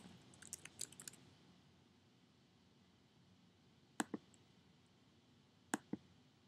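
Keys tapped on a computer keyboard while entering a page title, in short quiet bursts: a quick flurry at the start, then two sharper paired clicks later amid near silence.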